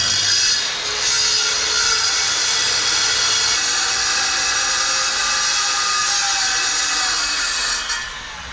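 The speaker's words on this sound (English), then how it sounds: "we can run that saw up against this, we know that that line will be straight" A saw cuts steadily through timber for a bespoke coffee table frame, a loud, continuous rasping drone that holds for about seven seconds before stopping, with no talking.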